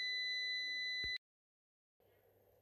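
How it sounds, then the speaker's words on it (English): An APC Back-UPS 700 sounds its alarm for a faulty, nearly four-year-old battery: a loud continuous electronic tone that cuts off abruptly after about a second, followed by silence and then low background hum. "goes into an alarm state, which indicates a faulty battery"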